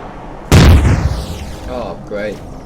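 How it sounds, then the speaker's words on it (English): Laser fire striking a ship in Empyrion, a space game: one sudden loud blast that rings down into a descending whine, followed by fainter electronic warbles. "Lasers are shooting me."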